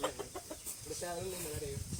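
Farm chickens cluck in short, repeated bursts close by, with soft background noise and a few murmuring sounds underneath.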